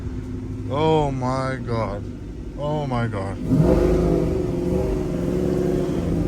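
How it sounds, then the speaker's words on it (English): A cammed 5.3 GMC Sierra truck with equal-length longtube headers revs, its loud engine rising and falling in a couple of bursts before a sustained deep rumble, with an excited voice speaking over it. "finally I'm gonna get to make a proper video of how this truck sounds like"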